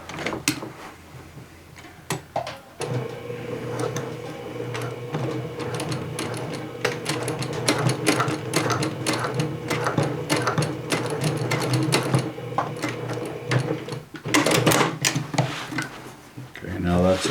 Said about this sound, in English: we'll go ahead and stitch down this little gap we left open right here to anchor the pocket down to the side seam